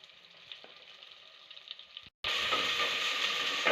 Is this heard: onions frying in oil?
yes